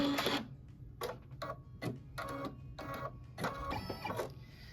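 An embroidery machine sews a decorative stitch on a quilt block, a steady mechanical whirring with rhythmic needle bursts that stop and start in short runs, close and fairly loud with no talking.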